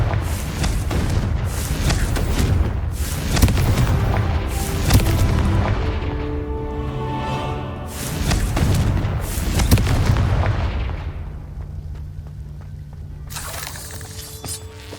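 Magical explosive blasts from the Confringo spell in the Hogwarts Legacy video game boom and shatter in heavy repeated bursts, several loud crashing impacts, with a ringing tonal lull between, then a rumbling fade.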